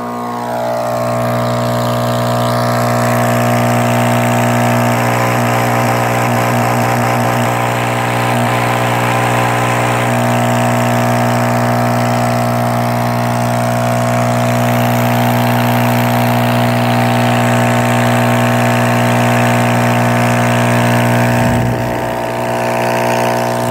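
A FujiMAC MAC80 RII diaphragm air pump with a suspected chamber fault runs loud and close, giving a continuous buzzing hum with a slight waver.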